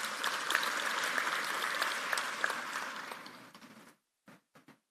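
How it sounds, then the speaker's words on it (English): An audience applauds staff at a strategic planning session, steady close clapping from a room of people that fades out, followed by a few scattered final claps. "We must give them a round of applause."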